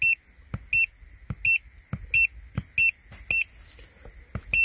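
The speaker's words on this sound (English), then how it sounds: "And then the beeper, you can turn it off if you don't want the beep." An Autophix 7610 Elite OBD2 scanner code reader gives short electronic beeps, about eight in an evenly spaced series, sharp and close. Soft button clicks fall between the beeps.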